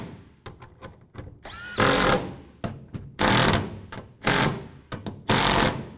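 Bursts of a power tool snug down three bolts on a tailgate handle of a 2007-2013 Chevy Silverado 1500, short whirring runs separated by clicks and handling noises, close and loud.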